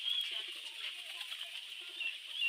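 Domestic pigeons calling near a loft, a steady soft band of cooing and bird chatter running throughout at low level, with faint distant background noise.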